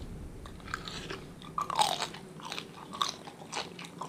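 Crunchy stir-fried glass shrimp with their heads being chewed up close, a steady run of wet crunches and bites with no talking.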